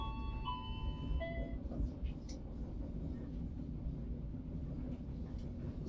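Gajayana Tambahan passenger train of Kereta Api Indonesia running as it approaches Malang station, a steady low rumble of rolling wheels with faint tonal chimes near the start, heard from inside the carriage.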